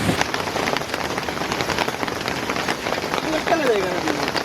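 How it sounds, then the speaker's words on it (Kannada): Steady rain pours down on a deep forest camp, a dense continuous patter of drops hitting surfaces, close and even throughout. "ರೈನ್ ಕ್ಯಾಂಪಿಂಗ್ ಅನ್ನ ಬರ್ಸ ಬರುಡು"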